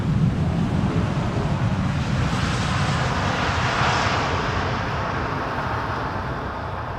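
KLM Boeing 787 Dreamliner jet on landing approach to runway 18R at Amsterdam Schiphol, a loud, continuous roar of engines that fades a little as the aircraft passes, with no talking.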